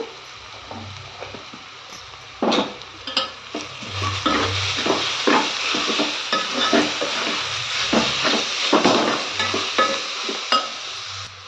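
Egg rice frying in a pan, stirred with a utensil that scrapes and clanks against the metal in irregular strokes over a steady close sizzle, starting after a quiet opening couple of seconds.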